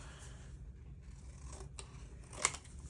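A few quiet snips of scissors cutting folded paper for a junk journal in a hushed room, ending in one sharper click near the end.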